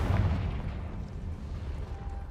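A Confringo spell blast goes off in Hogwarts Legacy, a deep, booming burst at the start that rolls into a low rumbling tail and fades over a couple of seconds.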